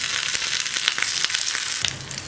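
Onion, dried red chili and curry leaves sizzle in a pan for carrot pachadi, a close, continuous crackling fry with no talking.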